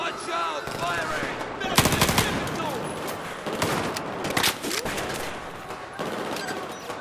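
Rapid bursts of automatic machine gun fire in the Battlefield 4 campaign's Kunlun Mountains battle, loud and close, with sharp gunshot cracks peaking near the two-second mark amid continuous combat noise and shouted voices.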